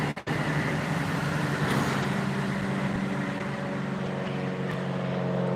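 Traffic on a busy major road outside during summer makes a constant low rumbling roar of passing engines, steady and fairly loud, with no voices.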